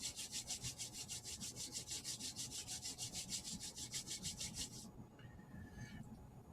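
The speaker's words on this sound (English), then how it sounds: "And then just rubbing your hands together." Hands rub briskly together during a seated T'ai Chi class, a fast, even swishing rhythm of about five strokes a second, close and soft, that stops abruptly near the end.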